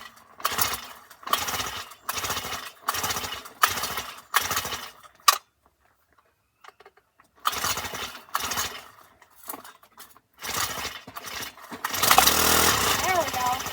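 A rototiller engine is started in a garden with repeated pull attempts. Several short, loud bursts of engine sputter are separated by pauses, and the last attempt runs longer and rougher.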